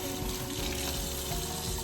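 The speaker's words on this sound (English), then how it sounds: "So y'all can hear my sink." Hot water runs from a kitchen sink tap in a steady, close rush that fills the short stretch alone without voices.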